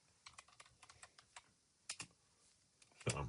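Computer keyboard keys clack in quick, irregular taps, close and quiet, with a firmer cluster of keystrokes near the end.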